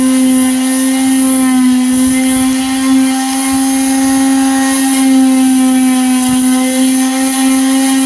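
A loud, steady motorized drone with a strong humming tone runs continuously, a power sander working close by on a boat during a monohull-to-trimaran conversion, with no talking.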